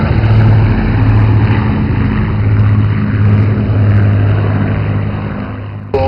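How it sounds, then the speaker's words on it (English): The piston engines of the Boeing B-17 Sally B roar at an air show: a loud, continuous propeller drone with a steady humming tone that holds throughout and dips only slightly at the end. "this one, Sally B, is the one and only surviving B-17 in Europe today"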